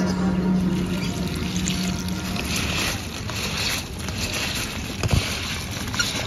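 Taro flowers from the garden being rinsed in water, a steady splashing and sloshing that runs continuously and fairly close, with a brief louder splash near the end and no talking.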